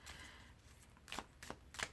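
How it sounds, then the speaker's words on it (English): A new, slightly stiff oracle deck being shuffled by hand, giving three short crisp riffling bursts close to the listener over a quiet background. "But the more we shuffle them, the better it will be."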